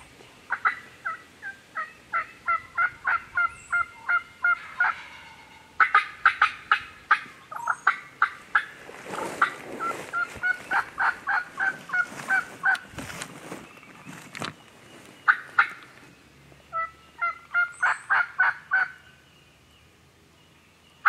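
Wild turkey gobbling repeatedly during a spring hunt in Kentucky, loud rattling bursts in quick succession with brief pauses between calls.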